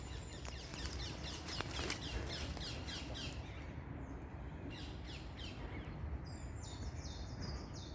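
Ring-necked parakeets call from woodland with repeated shrill squawks and chirps, moderately distant, over a steady outdoor background hiss.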